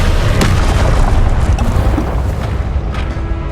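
A Confringo spell explosion in Hogwarts Legacy lands as a loud boom, followed by rumbling combat noise and smaller crackling impacts that persist to the end.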